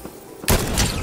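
A single sharp sniper rifle shot rings out in Fortnite, a loud sudden crack followed by a brief booming tail.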